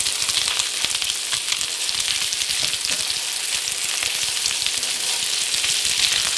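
Salisbury steaks caramelizing in a pan over medium-high to high heat, a steady, bright sizzle that runs evenly throughout without pause.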